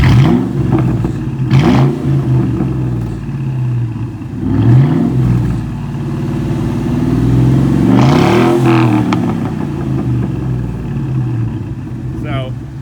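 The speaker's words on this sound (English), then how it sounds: "Like, you give it a little rev. It's pretty loud" A car engine with loud aftermarket mufflers revs in short bursts, a throaty rumble swelling and fading several times with a person talking over it.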